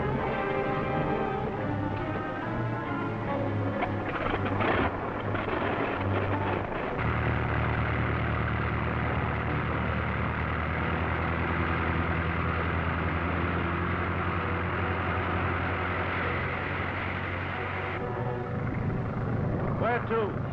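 Biplane two-seater engine droning steadily and close for the whole stretch, a loud continuous rumble with slight shifts in pitch, while voices talk over it.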